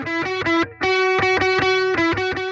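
A distorted electric guitar runs through the Klevgrand Stark CM amp simulator plugin, playing a loud, buzzy rhythmic riff of repeated chopped chords with one brief gap.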